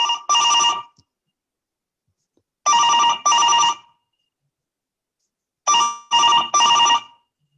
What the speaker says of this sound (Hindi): दिल्ली पहुंचने के दूसरे ही दिन मुझे हरभजन जी का फोन आया।